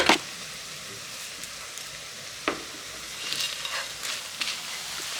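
Whole spices, dried red chillies, cardamom, cinnamon and a little mace, dry-roast on a hot tawa, giving a soft continuous sizzle broken by a few sharp crackles and pops.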